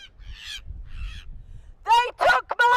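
Seagulls calling at Brighton Pier, a few loud harsh cries bursting in near the end after fainter high squawks over low background rumble.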